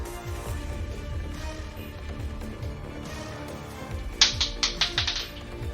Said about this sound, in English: I dropped the dice on the floor.